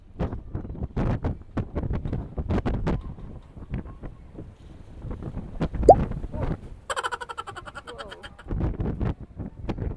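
Strong, cold mountain wind in Sapa, Vietnam, buffets the microphone in rough, rumbling gusts that rise and fall. A brief whistle-like tone and a fluttering rattle cut through near the middle.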